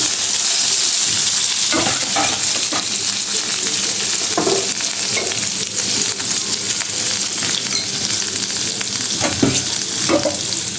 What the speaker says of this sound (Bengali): এদিক দিয়ে আমি আলুগুলা ভেজে নিব শিং মাছের জন্য।